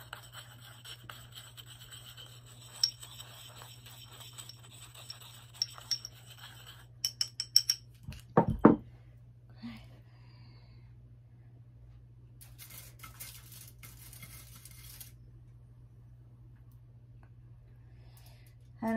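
A selenite stick stirs and taps a crushed mixture in a small container, giving scattered light scraping clicks and clinks that cluster into a few louder knocks, then fade to quiet hum.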